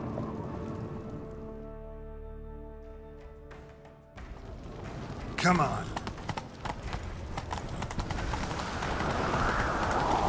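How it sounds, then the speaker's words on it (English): Horses gallop with rhythmic clip-clop hoofbeats during a chase, loud and continuous after a burst of movement, with people shouting and talking over them. "Grab a horse, we'll chase him down."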